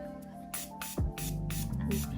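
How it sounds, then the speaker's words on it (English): Makeup setting spray mists in several quick, short bursts close by, each a bright airy hiss, over a low steady hum with a brief falling tone in between. "I'll take a setting spray."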